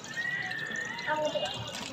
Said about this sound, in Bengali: এই হইলো পাশে ঝর্ণা সিস্টেম করা হয়েছিল।